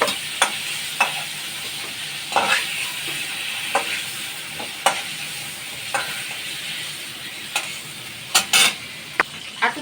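Chicken pieces stirred and fried in a pan for dai chicken, a steady sizzle broken by repeated sharp scrapes of the spoon, close and fairly loud with no talking.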